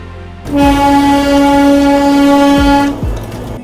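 The Darjeeling Himalayan Railway toy train sounds a long, loud, steady horn blast close by, with engine rumble underneath and a brief tail of running noise after it stops.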